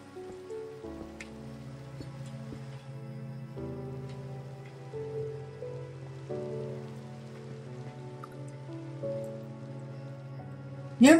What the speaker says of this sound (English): Oh, cool. It's raining.